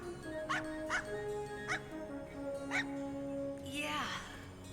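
A cartoonish puppy in the Wild Arms 4 video game gives four quick yipping barks at a steady pace over game music, then a short whimpering whine.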